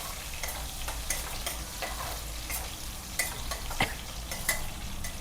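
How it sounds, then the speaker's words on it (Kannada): Green chillies fry in oil over a low flame for girmit, a steady soft sizzle with occasional light clicks and taps of a spatula stirring against the pan, close by and without talk. "ಲೋ ಫ್ಲೇಮಲ್ಲೇ ನೀಟಾಗಿ ಅದನ್ನು ಫ್ರೈ ಮಾಡ್ಕೊಳ್ತಾ ಬರಬೇಕು."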